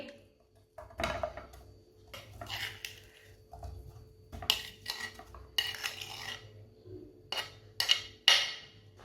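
A spoon stirs a mashed potato and spice filling in a pan for Ramzan rolls, making repeated scraping clanks against the metal in uneven bursts with quiet pauses between, close up.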